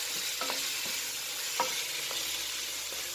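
Vegetables and tomatoes for pinakbet are stirred in a hot pan, giving a steady close sizzle broken by a few soft spoon clacks and scrapes spread across the moment.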